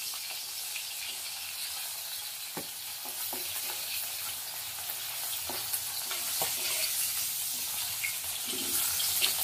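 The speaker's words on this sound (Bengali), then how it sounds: "মাছটা হালকা লাল লাল করে ভাজা হয়ে গেছে" Tangra fish frying in mustard oil in a pan, giving a steady close sizzle with scattered pops and crackles throughout, with no talking.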